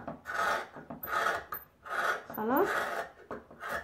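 Scissors cut through layered paper pattern pieces for wide-leg trousers in a series of rasping, scraping snips with short pauses between them, close up, with a brief spoken word near the end.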